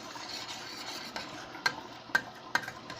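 Apples cook in a pan under a soft, steady sizzle while a utensil stirs them, scraping and knocking against the pan in a few distinct clicks toward the end.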